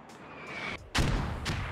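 Mortar rounds from the Squad video game strike near a compound, a louder broadband blast landing about halfway through and a second burst following, under a steady rumble of distant battle.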